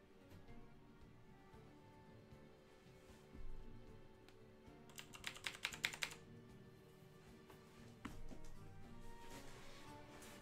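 Fast, quiet clicking of keys on a computer keyboard in a short burst, close by but faint, set against a low room hum, with a single louder tap afterwards; no talking.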